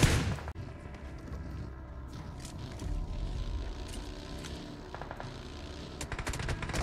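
Rapid gunfire from a competitive mobile shooter scrim match, sustained dense bursts with sharp individual cracks, continuous through the stretch with a heavier volley near the end.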